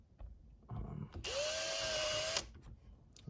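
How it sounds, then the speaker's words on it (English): Power drill pre-drilling a small hole into a door jamb, one short high-pitched whirring burst of about a second that spins up, holds and stops, preceded by faint handling noise. "I'm going to just pre-drill a little hole"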